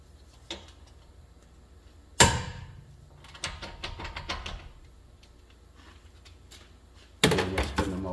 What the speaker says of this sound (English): Break these caliper bolts loose.